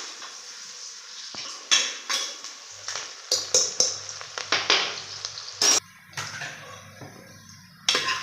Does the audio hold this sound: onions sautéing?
yes